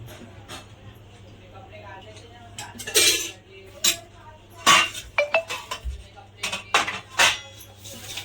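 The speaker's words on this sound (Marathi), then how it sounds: "हे आपल्याला पूर्ण आता मिक्स करून घ्यायचं आहे" A spoon mixes methi cutlet batter of gram flour and oil in a bowl, making sharp metallic clinks and scrapes in uneven bursts, with a voice talking alongside.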